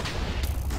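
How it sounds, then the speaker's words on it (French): Minecraft SheepWars fragmentation sheep blasts, a quick cluster of booming explosions in rapid succession, loud and close, lasting under a second with no speech. "Explosion!"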